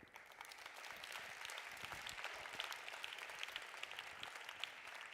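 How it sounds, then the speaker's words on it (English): Sustained audience applause at a grand opening ceremony, a steady dense wash of many hands clapping throughout, moderately distant and fairly quiet, with no talk over it. "A huge round of applause, ladies and gentlemen."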